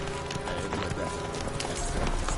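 Galloping horse hooves in Witcher 3, a steady dense clatter of clip-clops running throughout at moderate loudness over a busy background wash.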